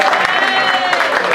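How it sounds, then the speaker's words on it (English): Audience applause and cheering, a dense burst of clapping with raised voices, loud and close throughout a short moment. "Give him a big round of applause."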